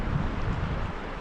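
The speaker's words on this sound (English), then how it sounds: "A little wind." Wind gusts along a trout stream during fly fishing for brown trout, a steady, close, low rumbling buffet that holds for the whole moment with no voices.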